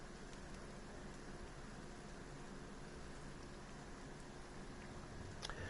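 Steady rain falls in a video game, a continuous dense hiss of droplets that stays even and fairly quiet throughout, with no other distinct sounds.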